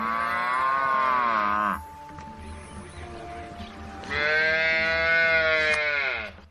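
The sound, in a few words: Ankole cattle mooing in Uganda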